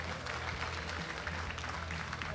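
A crowd at a mixed martial arts event gives sustained applause, a dense and steady wash of clapping heard from within the audience.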